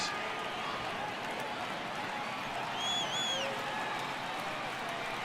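Simulated stadium crowd in MLB The Show 18 rising for a full 3-2 count, Yankees at Red Sox: a steady, dense roar of cheering that swells slightly midway, with a couple of faint whistle-like tones above it.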